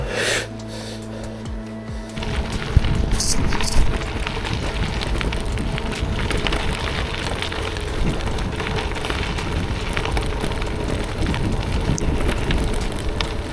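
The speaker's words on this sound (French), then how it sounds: "Un coup il pleut, un coup il pleut pas" Steady rain patters under gusty, cold wind buffeting the microphone, a dense continuous outdoor wash without talk, at night during a gravel bike ride in the Loire and Sologne region.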